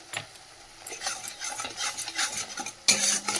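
Salt and turmeric are stirred into ground mustard, poppy seed and green chilli paste cooking in a pan, giving close, uneven scraping and shuffling strokes over a low sizzle, with a louder scrape near the end and no talking.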